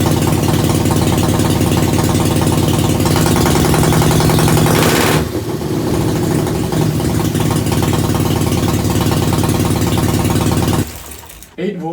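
Soviet USSR chopper motorcycle engine running without a battery, idling in a dense rapid chatter that surges louder with revving, then briefly dips and cuts near the end, with someone talking over it.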